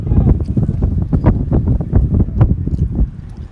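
Strong gusty wind buffets the microphone at an outdoor college baseball game, a steady low rumble with repeated louder bursts throughout.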